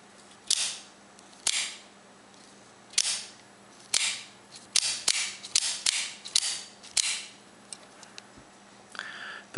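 An HK Tumult OTF knife, with a metallic gray aluminum switch, firing its blade repeatedly: about a dozen sharp, close, snappy clicks at uneven intervals, each with a short metallic ring.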